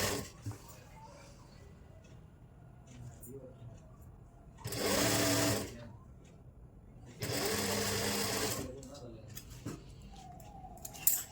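A domestic sewing machine stitches the lining of a kurti in two sustained bursts of whirring, close and loud, separated by quieter handling of fabric; someone talks in between.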